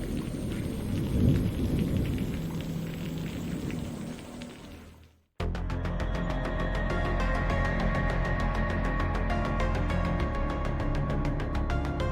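A thunderstorm with steady heavy rain: a rumbling roll of thunder fades out to a brief hush, then dense rainfall resumes loud and continuous with no talking.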